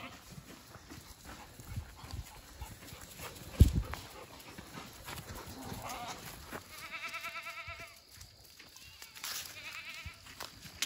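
Goat bucks are moved along on a farm while dogs run around. Scattered hoof steps and rustling movement come through at a moderate distance, with one sharp knock and some faint bleating and clatter later on.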